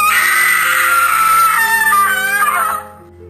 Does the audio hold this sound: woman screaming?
yes